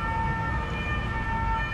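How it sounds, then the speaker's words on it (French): A Paris fire brigade siren wails through the city streets, its steady tones sounding at a moderate distance over low traffic rumble, with no voices. "Pimpon, la sirène des pompiers, lorsqu'elle retentit, me fait penser tiens bon, tiens bon."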